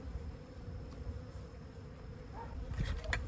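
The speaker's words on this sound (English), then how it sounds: "Come on, little bee, get out of there." A bee trapped inside a mason jar under a lid gives a steady low buzzing drone throughout, with a few brief clinks and rustles of the lid being handled near the end.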